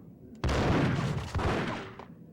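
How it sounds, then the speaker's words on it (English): Gunfire in the Max Payne video game, a burst of loud, close rapid shots starting abruptly and rattling on for about a second and a half before fading. "I don't even know who's shooting at me and where"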